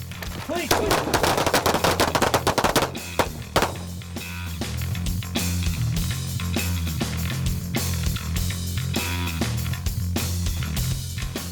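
Rapid bursts of machine gun fire ring out at an outdoor shooting range, loud and close, with dense repeated shots running through most of the stretch.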